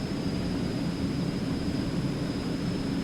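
An Eclipse 550 jet climbing after takeoff in X-Plane 11, a steady, even engine roar with broadband rushing noise and a thin high whine, constant and unbroken throughout.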